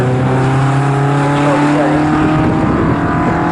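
A sports special race car passes at Snetterton, its loud, steady engine drone rising and bending in pitch as it speeds by.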